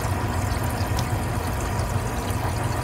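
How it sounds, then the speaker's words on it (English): Water siphon bubbling and gurgling over PVC pipe in an aquaponics rack of vertical grow towers holding tilapia, a steady close wash of running, trickling water with low churning underneath. "that's where you hear the funny little bubbling noises come from"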